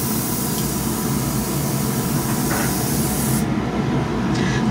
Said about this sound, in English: That hiss means that I probably have something clogging right through here.